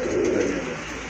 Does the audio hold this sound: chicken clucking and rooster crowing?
no